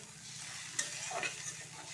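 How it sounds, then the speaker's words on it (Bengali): Dried mango amchur is sautéed with a snakehead fish curry in a pan, making a quiet, even sizzle with a single soft clack of the spoon and light scraping, faint and close, with no talking. "তো আমচুরটা ওর সাথে কষিয়ে নেব, আমচুরের জলটাও দিয়ে দেব"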